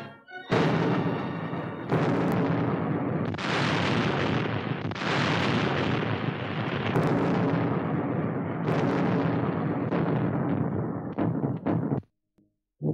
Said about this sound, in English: Here, under the guns of British and American artillerymen, began the assault on the mainland of Italy.